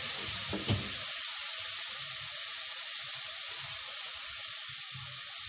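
Hot water pours into a pot of soaked chickpeas, a steady hissing rush that starts with a brief splash and continues evenly throughout.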